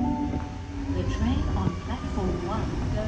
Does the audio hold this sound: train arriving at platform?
yes